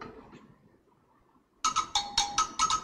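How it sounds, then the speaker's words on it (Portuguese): Samba percussion sounding after a quiet start: five or six bright, ringing metallic strikes in a quick rhythm, fairly close and alone. "Esse é o som do pandeiro."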